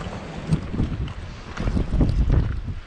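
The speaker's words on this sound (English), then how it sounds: "I'm getting this like nasty crosswind coming in at like, I think it's gusts up to 40 knots" Strong, gusty crosswind on a Rhode Island shore buffets the microphone with a loud, continuous roaring rumble that swells and surges, drowning out other sound.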